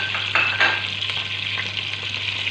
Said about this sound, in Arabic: نقليهم مع بعضهم